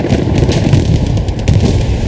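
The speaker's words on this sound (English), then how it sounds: "Explosions coming out from both teams as the transport truck goes down." Explosions as a transport truck is destroyed in the World War II shooter Hell Let Loose, a dense, loud rumble of overlapping booms and crackling blasts sustained throughout.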